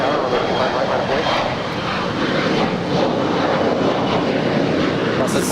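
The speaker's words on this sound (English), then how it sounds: "This is SkyWest 3499 departing to San Francisco. It's a 6-year-old Embraer E175LR." A SkyWest Embraer E175LR regional jet departs Los Angeles International, its engines a loud, steady roar that holds for the whole stretch with little change, and faint voices sit underneath.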